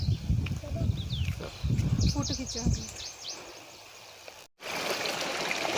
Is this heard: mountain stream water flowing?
yes